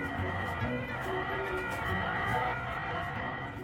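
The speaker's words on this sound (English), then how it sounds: "They're all distress calls that have been recorded to disperse the birds." Recorded bird distress calls of kestrels, falcons and golden plovers blare from a loudspeaker at Heathrow Airport to disperse birds, a steady harsh squawking that is loud and continuous.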